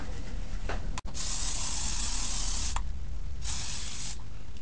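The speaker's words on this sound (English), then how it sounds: "Then you got to apply some spray, hairspray." Several bursts of Garnier Fructis hairspray hiss from an aerosol can, a long one and a shorter one, with a brief click between them, close and fairly loud.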